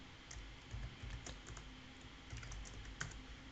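Quiet, continuous typing on a computer keyboard while writing TypeScript code, a steady patter of close key clicks with a few sharper taps, heard alone without speech.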